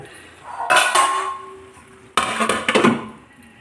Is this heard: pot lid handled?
yes